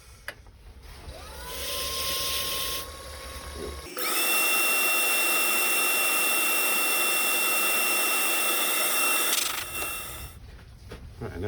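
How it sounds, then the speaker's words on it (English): A wooden tool handle is power-sanded with a high-pitched whining motor that spins up, runs loud and steady for several seconds, then winds down, with rough grinding beneath it. "now more sanding."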